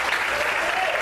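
A congregation at an evening evangelical church service applauds with a brief, steady wash of dense clapping.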